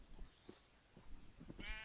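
Sheep in the Minecraft video game bleat in a couple of short calls, with soft thuds and movement sounds between them, fairly quiet and with no talking.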